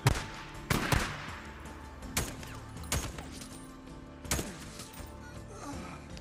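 Gunfire in the PS5 video game Days Gone: sharp, loud single shots spaced irregularly about a second apart, each with a brief echoing tail, and no talking.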